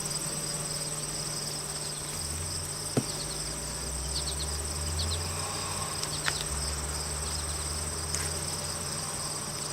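Honeybees buzz around an open backyard hive in a steady low drone, with thin, high insect chirring running alongside and no voices.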